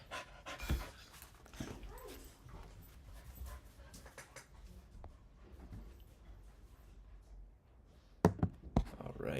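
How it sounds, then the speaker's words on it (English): A pet dog pants rapidly after arriving home indoors, the breathing close and steady through most of the moment, with a few thumps and taps near the end and faint talk in the background. "my dog just got home"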